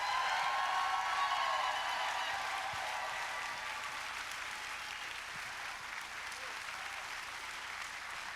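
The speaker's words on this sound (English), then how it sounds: "One more round of applause for Helena." Large audience at a national education leadership summit plenary applauding a speaker, a broad, even roar of distant clapping sustained throughout, slightly louder at the start.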